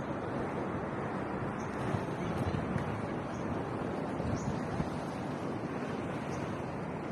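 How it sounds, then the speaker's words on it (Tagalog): Pacific Ocean surf breaking steadily along the shore at Governor Generoso, Davao Oriental, with wind buffeting the microphone in a continuous, loud roar throughout. "That's the Pacific Ocean"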